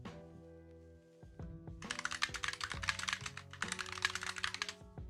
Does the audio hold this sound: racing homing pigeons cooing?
no